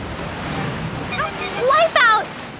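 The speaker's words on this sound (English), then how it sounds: "here comes a really big wave" A big cartoon ocean wave rolls in as a toy car surfs, a swelling rushing surf roar with a voice talking over it.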